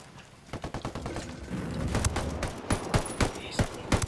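Bursts of automatic gunfire and single shots crackle in a Ghost Recon Wildlands firefight while defending a hospital, a rapid volley early, then sharp spaced reports, loud and close.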